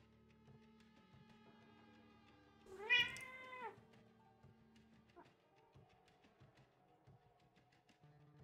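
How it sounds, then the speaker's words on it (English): A house cat gives one clear, close meow that rises and falls, with soft background noise before and after. "She keeps patting my arm or my hand and meowing."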